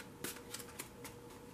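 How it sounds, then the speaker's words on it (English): A deck of tarot cards is shuffled in a few quick, crisp riffles, soft and close with brief bursts about a quarter second apart. "so I'm only going to shuffle it for a minute or less."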